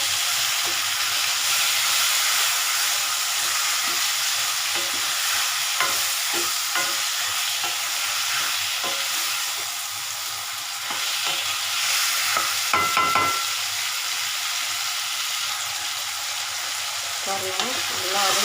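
Sliced radish sautéing in oil in a pan, a steady close sizzle and hiss with occasional spoon scrapes and clacks as it is stirred, continuous throughout with no talking.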